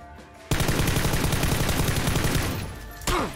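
Dense, rapid automatic gunfire in the battle royale video game PUBG roars continuously for a few seconds, loud and close, then cuts off and ends with a single sharp shot.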